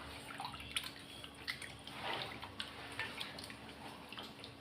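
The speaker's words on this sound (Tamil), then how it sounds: "நான் இதிலே புளியை கரைச்சி ஊற்றிக்கிறேன்" Dissolved tamarind water poured into a pot for Chettinad fish kulambu, a quiet, steady trickle and splash with scattered drips, heard alone at low volume.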